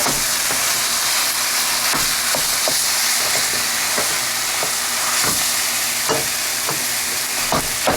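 Ground pork frying in a hot pan for sloppy joes, a loud, continuous sizzle and hiss with repeated scraping knocks of a spoon as the meat is stirred and broken up.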